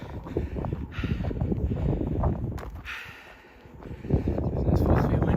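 Wind gusting across the microphone on a mountain trail run up Mt Ascension, a rough low roar that swells and dips with heavy breathing close by.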